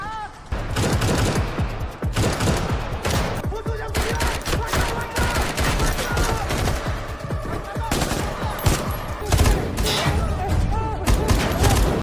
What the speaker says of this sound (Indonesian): pasukan kepolisian datang dan aksi baku tembak pun tak terhindarkan